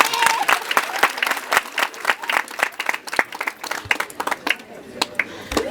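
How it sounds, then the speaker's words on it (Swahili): An audience at a girls' school prayer day claps in a lively burst of overlapping claps from a crowd, with a voice speaking over the applause. "Makofi kwake jameni."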